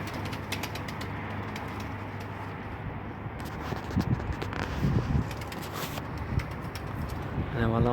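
Pigeons coo and flutter outdoors on a rooftop amid steady wind noise, with occasional wing flaps and a person talking in Arabic in the background.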